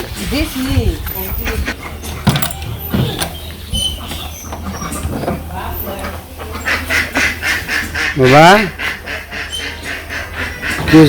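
Village ducks quack around their duck house, with several nasal calls rising and falling close by while people talk over and between them.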